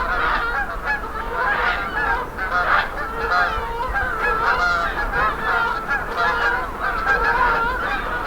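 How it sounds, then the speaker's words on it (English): A flock of geese landing outdoors honks continuously and loudly, with many overlapping calls and a steady wash of wing and water noise beneath. "geese landing"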